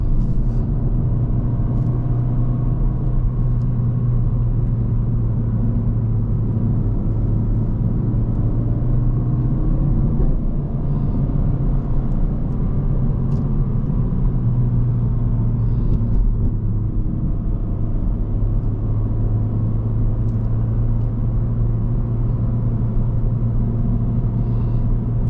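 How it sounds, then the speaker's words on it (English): Honda Civic Hatchback (11th Gen) engine pulling a trailer uphill in second gear at about half throttle, a steady low drone and road rumble from inside the cabin, continuous and even with no talking. "dropping it back to second, I'm gonna have no problems going up this hill at all."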